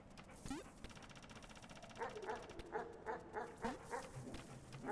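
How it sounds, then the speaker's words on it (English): Dog in the video game Animal Well barks in a quick run of yips and short bow-wows, then whimpers, moderately close and repeating over a steady game background hum. "You, get the fuck out of here, piece of shit dog."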